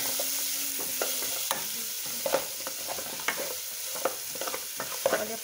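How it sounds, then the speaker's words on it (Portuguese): Garlic and onion with a little salt sizzle quietly in a pan. A utensil scrapes and taps as it stirs them in a steady, irregular rhythm. The sound is close and soft, with no voices. "Eu coloquei o nosso alho com um pouquinho de sal, tá colocando a nossa cebola. Pra dourar um pouquinho."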